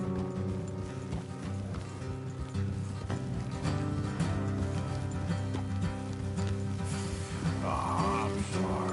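Horse hoofbeats clip-clopping on a trail in the Red Dead Redemption video game, a steady rhythmic trot under layered ambient game sound and music, with a brief whinny-like burst near the end.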